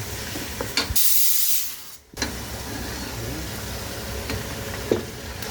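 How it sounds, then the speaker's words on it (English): Chopped onions, mutton and curry leaves go into a hot pan, with a loud hiss flaring up that then settles into a steady sizzle with light stirring noises. "So now it's the time for us to put the chopped onions, mutton and the curry leaves"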